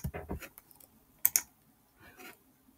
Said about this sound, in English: So I'm going to type this Hugging Face, right?